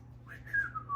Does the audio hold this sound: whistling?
yes